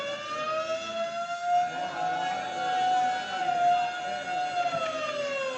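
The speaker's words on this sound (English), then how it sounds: "the quiet routine of the prison is broken by frantic bells and the shrieking wail of the siren." A prison alarm siren wails in a steady, loud rising-and-falling tone, a radio drama sound effect that sustains throughout without any talk.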